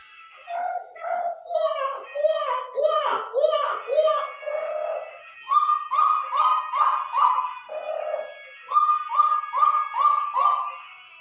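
A voice imitates a waterhen's call, repeating rhythmic hooting notes in quick bursts, with several series separated by short pauses, close and clear.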